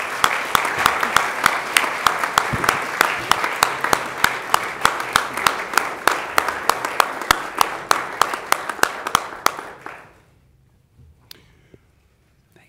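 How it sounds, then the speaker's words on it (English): Applause at a Germantown Board of Mayor and Aldermen council meeting, a steady roomful of clapping with distinct claps standing out, lasting about ten seconds before stopping abruptly into quiet. "Another round of applause, please."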